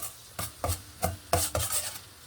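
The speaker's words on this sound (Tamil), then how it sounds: "நான் அதை சேர்த்து நல்லா வதக்கி விட்டுக்கிறேங்க" A utensil scrapes and stirs in a pan in about six quick, uneven strokes, close by, as garlic sautés in butter with a faint sizzle underneath.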